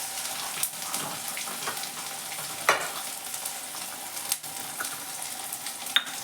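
Cumin, sugar, ginger paste, coriander and cumin powder fry in a pan for Bengali ghugni with fresh peas, a steady close sizzle with a few brief clinks and scrapes, and no voices.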